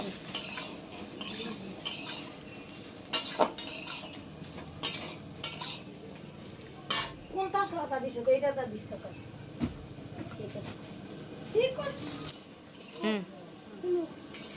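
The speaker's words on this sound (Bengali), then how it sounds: "হলুদটা দিয়ে নেড়ে চেড়ে আর কিছুক্ষণ ভেজে নিয়েছি" Potatoes and broad beans fry with turmeric in a pan, sharp clattering stirring strokes and scrapes of a utensil repeating over a low sizzle, while people talk nearby.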